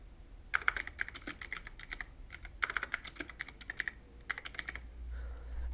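Typing on a computer keyboard, bursts of quick, crisp key clicks in short runs separated by pauses, close and clear with no talking.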